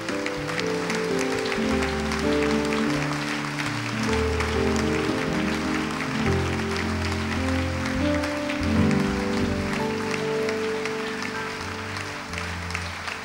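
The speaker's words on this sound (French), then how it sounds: "Acclame très fort le Seigneur Jésus" A church congregation claps and cheers continuously at a worship service in Lomé, Togo, a dense, steady wash of applause mixed with loud singing or music throughout.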